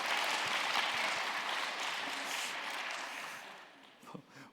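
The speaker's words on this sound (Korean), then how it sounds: "you give me a round of applause because I said it was sold out" An audience at a church winter retreat claps warmly, the applause fairly loud at first and gradually thinning and fading out near the end.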